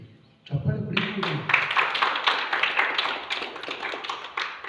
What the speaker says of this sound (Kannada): ಚಪ್ಪಾಳೆ ಬಿಡಿಸ್ಬೋದು.